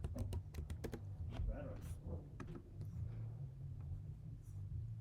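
Fingers tapping on a computer keyboard, a quick run of sharp clicks at first, then sparser keystrokes, over a low steady room rumble, with a voice talking near the middle.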